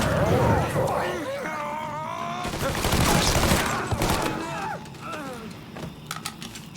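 Bursts of gunfire from the Mafia III video game crackle through a busy action scene, mixed with game music, shouting and other effects at fairly loud, steady level.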